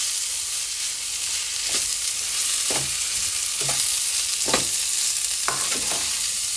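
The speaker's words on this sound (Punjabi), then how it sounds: "ਹੁਣ ਆਪਾਂ ਇਹਦੇ ਵਿੱਚ ਐਵੇਂ ਹੀ ਪਕਾਵਾਂਗੇ ਪਨੀਰ ਨੂੰ" Paneer bhurji sizzles steadily in a pan while a spatula stirs it, with several distinct scraping strokes spaced through the frying.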